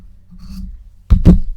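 Scissors trim fabric while making a quilted pot holder, with two quick, close rasping snips after a soft rustle.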